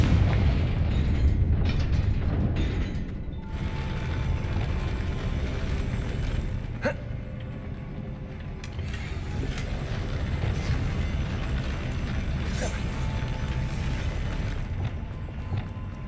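A Confringo spell explosion in the Hogwarts Legacy video game lands as a loud, sustained rumbling blast with crackling bursts and a sharp pop partway through, close and heavy throughout.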